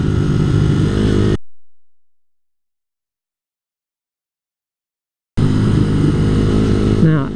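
A motorbike rides along the Adelaide to Lobethal Road, its engine droning steadily and loud with wind roar, cut by a long stretch of total silence before the engine noise returns.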